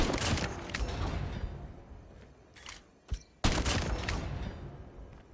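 Gunfire from the Flame Lotus weapon in Call of Duty Mobile. Dense bursts of rapid shots open the clip, then a short quiet gap and a single sharp crack, followed by another heavy burst that gradually fades.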